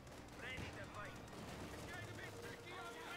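Machine gun and rifle fire from a Company of Heroes 2 battle between infantry squads, steady rapid bursts crackling throughout under continuous talk.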